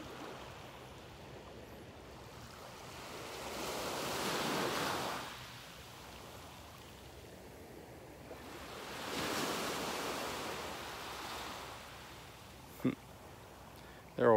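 Gulf beach surf in North Naples, Florida, with waves swelling and breaking in two slow, broad rushes over steady hiss and light wind. A faint click comes near the end.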